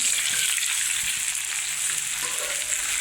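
Okra and onion sizzling together in a hot oiled pan for bhindi masala, a dense, steady crackle of frying that holds evenly throughout, with faint stirring knocks underneath.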